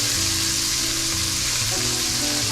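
Onions and peppers fry in butter in a hot pan, giving a loud, dense, continuous sizzle up close with no voices.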